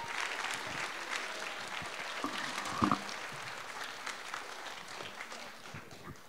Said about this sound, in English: Huge round of applause to her.